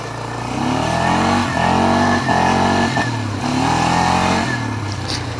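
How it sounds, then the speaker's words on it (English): A Harley-Davidson motorcycle rumbles by, loud and close, with a deep steady engine drone that swells and shifts through gear changes over several seconds. "Someone got a Harley around here,"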